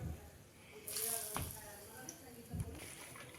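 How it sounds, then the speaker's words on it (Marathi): Hot oil poured onto green pea vada dough gives a brief, faint hissing sizzle with a couple of soft splashes, heard under quiet talk. "त्यातलं दोन टेबलस्पून एवढं तेल गरम तेल मी याच्यावर घालणार आहे कडकडीत तेल"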